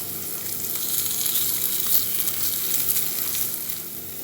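Paneer frying with masala in a pan gives a steady, close sizzle and crackle that runs unbroken throughout, with no one talking.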